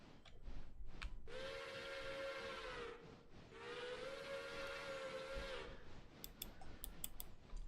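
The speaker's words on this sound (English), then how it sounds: "found the button to crow the whistle myself" A steam locomotive whistle on a heritage branch railway blows two long, loud, steady blasts, each roughly two seconds, over rumbling engine noise, followed by a few short sharp metallic clanks.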